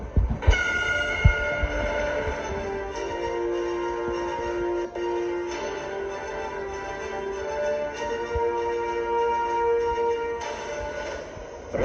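A Delhi–Meerut RRTS rapid rail train runs with a steady, even mechanical hum and sustained horn-like tones for about twelve seconds, at moderate level and without speech.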